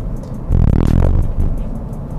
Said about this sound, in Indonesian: speed bump ini kasar loh, bener. Ini kita hajar dari kecepatan 50